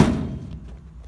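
A knuckle raps once on a car's door panel, giving a single dull thud that fades quickly into a short, faint ringing decay, with nothing else heard afterward.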